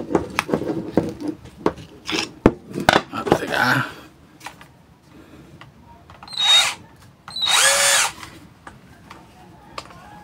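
A handheld power drill turning to loosen the screw inside its chuck, heard close in short whirring bursts and two longer runs, mixed with clicks and rubbing handling noises.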